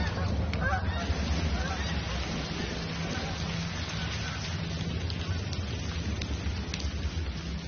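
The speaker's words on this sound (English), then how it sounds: "And the wild geese flew away." Wild geese honk repeatedly over a steady wash of rain-like noise, the calls scattered and fairly distant.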